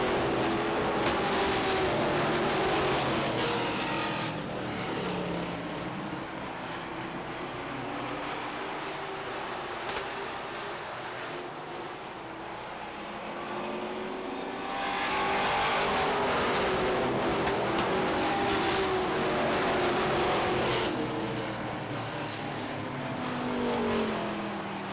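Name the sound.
stock race cars racing at Beech Ridge Motor Speedway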